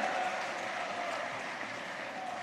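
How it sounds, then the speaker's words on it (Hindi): A political rally crowd claps steadily to welcome JP Nadda, a dense, continuous wash of applause heard from a distance with no clear individual claps. "ताली बजा के सब लोग"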